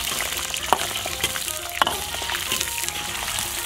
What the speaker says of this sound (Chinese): 锅中倒油，油热倒入葱姜盐葱